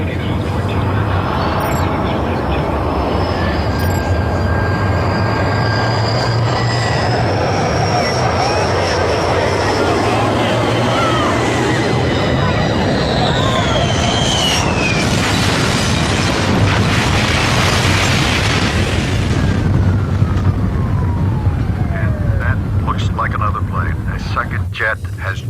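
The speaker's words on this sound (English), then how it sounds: "Jet has just streaked in from behind. It is slammed into the World Trade Center." A jet airliner streaks in from behind and crashes into the World Trade Center in New York, a loud continuous roar of engines with a rising whine and an explosive rumble, heard under a reporter talking throughout.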